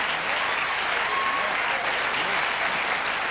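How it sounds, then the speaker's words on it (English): A studio audience at a football talk show applauds loudly and continuously, a dense, even wash of clapping filling the room from start to finish. "Keep your applause going for Jim Stynes"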